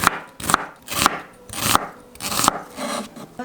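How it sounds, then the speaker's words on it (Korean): A knife slices half an onion into thin strips on a cutting board: a string of six crisp, close chopping strokes at a steady rhythm, loud and near, with no voices. "그냥 반 잘라서 얇게 채 썰어 주겠습니다"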